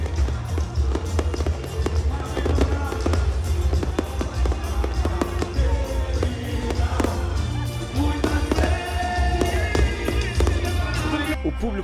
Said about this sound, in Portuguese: E a celebração teve muitos fogos de artifício.